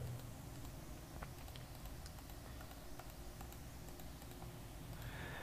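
Faint, quiet clicking of typing on a computer keyboard, with scattered soft key taps over a low background hum.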